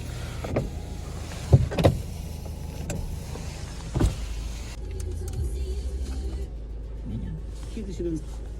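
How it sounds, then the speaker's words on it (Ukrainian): Electric side mirrors on an Opel Astra K whirring as they are adjusted, a few short motor buzzes heard close inside the car's cabin under a steady background hum. "ліве дзеркало регулюється, праве регулюється"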